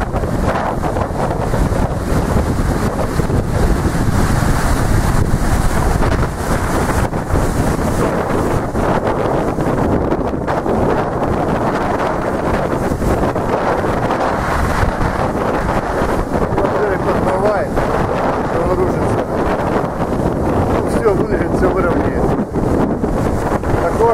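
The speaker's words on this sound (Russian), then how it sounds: "Очень плотный, постоянный ветер." Strong, constant storm wind buffets the microphone on a beach at Lyubimovka, a dense, loud roar with gusty rumble and crashing surf mixed in for the whole stretch; a voice speaks faintly within it.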